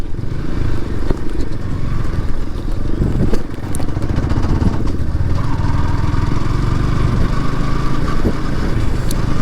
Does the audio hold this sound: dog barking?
no